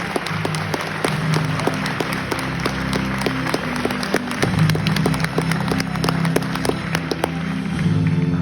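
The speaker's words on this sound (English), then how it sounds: "Ladies and gentlemen, let's give these soldiers a round of applause" Audience applause at an army basic combat training graduation ceremony for the new soldiers, with steady, dense clapping heard from a distance outdoors over a low background hum, lasting throughout.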